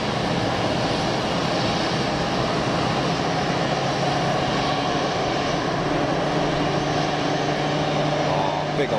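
A Swiss Airbus A330 starts its engines during pushback at Geneva Airport, a loud, steady jet roar and whine that holds unbroken throughout, heard from nearby with no talk over it.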